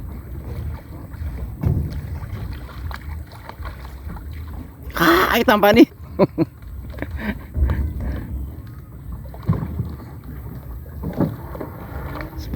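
River crossing ferry carrying motorbikes, wind buffeting the microphone and water noise with a sharp creaking clatter midway, while people talk throughout.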